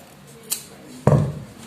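Scissors snip satin fabric for a bonnet: a faint snip, then a louder, sharper cut with a brief rustle, close by. No one talks.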